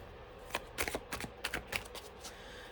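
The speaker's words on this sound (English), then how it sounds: "I'm going to shuffle you once a little bit more." Tarot cards being shuffled by hand, a run of crisp riffling flicks and soft slaps in an irregular rhythm, close and moderately quiet, with no talking.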